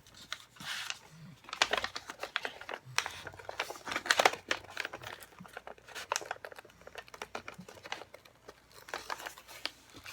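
A paper bag folded and creased while wrapping a package: soft, irregular crinkling and rustling of paper with scattered sharp crackles, close and fairly quiet, with no talk.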